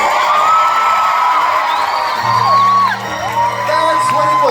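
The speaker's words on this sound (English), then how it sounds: "Let's play it again and see if we can get more applause." Concert audience at a live 60th birthday show cheering and whooping loudly, dense crowd roar with rising and falling whistles and shouts, close and sustained throughout.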